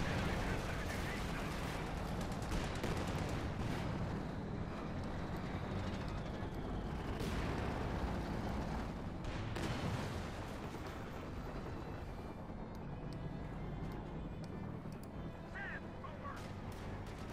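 Bazooka fire and explosions in a Company of Heroes 2 battle form a dense, continuous rumble of blasts and gunfire, loud and unbroken, with a voice faintly underneath.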